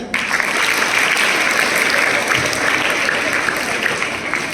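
Sustained applause from an audience at a 26 January Republic Day speech event at a school, steady dense clapping filling the whole stretch without pause.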